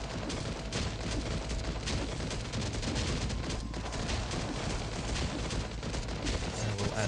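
Dense, continuous turret gunfire in Last Day on Earth: Survival, a loud rapid fusillade of shots and booms filling the whole stretch with no pause.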